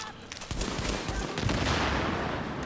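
Sustained rifle gunfire in The Division video game, dense rapid bursts of shots running almost continuously at high level with no pauses.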